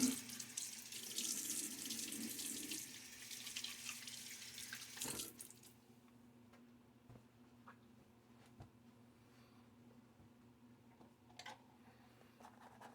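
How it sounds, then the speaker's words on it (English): A bathroom tap runs during a wet shave, water splashing steadily for about five seconds before shutting off, leaving a quiet room with faint drips and small clicks. "Splash of water."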